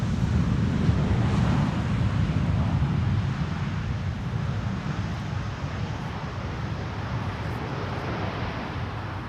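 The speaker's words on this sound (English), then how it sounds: "The wind is blowing double digits and is more or less perpendicular to the runway heading." Strong west-southwest crosswind at Amsterdam Schiphol airport roars steadily as loud, broadband rumble throughout, with no talk and no distinct aircraft passing.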